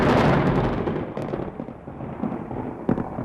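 Thunder plays as a sound for a dog: one heavy rumbling crash that fades into a lower, irregular rolling rumble, with a sharper crack near the end.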